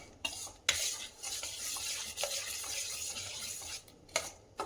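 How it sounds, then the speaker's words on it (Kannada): A spoon stirs jaggery syrup cooking in a pan for peanut laddu, giving soft continuous scraping and swishing with a few sharp metallic clinks against the pan, close and fairly quiet, with no voices. "ಬೆಲ್ಲವನ್ನು ನಾನು ಪಾಕ ಬರೋವರೆಗೆ ಕಾಸ್ತೀನಿ"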